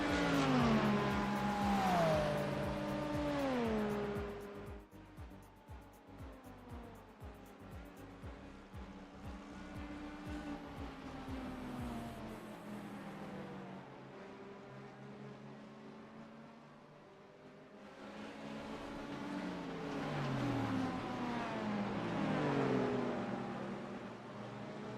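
An American V8 Corvette engine in a racing game roars loudly at first, then drops to a lower, steady drone before climbing again in pitch as it revs back up.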